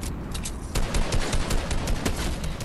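Rapid makeshift shotgun fire in the video game Fortnite, a dense, loud burst of overlapping blasts running continuously throughout, with no speech.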